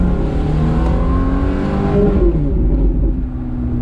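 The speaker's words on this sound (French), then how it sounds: "il est tellement beau ce bruit, le bruit V8 Ferrari" A Ferrari V8 engine revs hard and close, a loud rising roar that swells and then eases off, with no talking.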